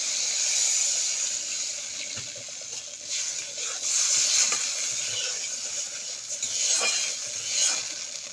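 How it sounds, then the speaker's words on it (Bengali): Water hits hot fried masala for a fish curry, giving a loud spattering hiss that surges and settles in several bursts, with faint pan clatter and no voices. "এবারে আমি দিয়ে দেবো ঝোল, জল দিলাম।"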